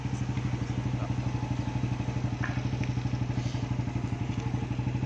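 A motorcycle engine, apparently a small idling motor at a quick roadside stop, putters in a steady, rapid low rhythm close by, with no talk over it.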